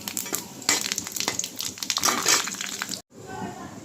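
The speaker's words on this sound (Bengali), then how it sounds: "এই শুকনো মরিচ আর তেজপাতাটা একটু ভেজে নেব" Dried red chilies and a bay leaf fry in hot oil for khichuri, giving a busy crackling sizzle with scraping stirs, then a brief cut and quieter frying.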